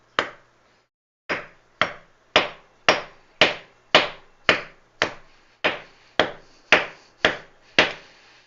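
A hammer strikes lava rock covered with a towel again and again, about fourteen sharp cracking blows at a steady pace after a single opening hit, loud and close.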